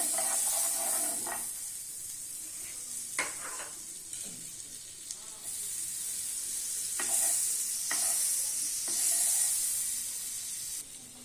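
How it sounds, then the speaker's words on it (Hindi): A veg burger patty sizzles and crackles on a hot griddle spread with butter, a steady frying hiss with occasional stirring and scraping sounds, close and continuous. "बर्गर को तवे पर सेकेंगे इस तरह"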